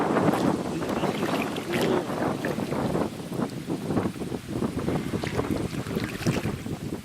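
Wind gusts across a river during a multi-day river trip, rumbling as steady, buffeting noise against the microphone with faint water sounds underneath.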